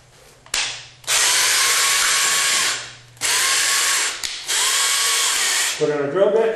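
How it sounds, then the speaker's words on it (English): A power drill bores pilot holes in wooden workbench rails for screws, with three loud sustained whirring bursts separated by short pauses, then a brief ratcheting sound at the end. "pre-drilling the holes for the screws to attach the end rails to the 4-foot long rails."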